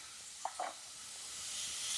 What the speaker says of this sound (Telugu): ఫ్రై చేద్దాం. కొంచెం లైట్ బ్రౌన్ కలర్ వచ్చేంత వరకు ఫ్రై చేద్దాం.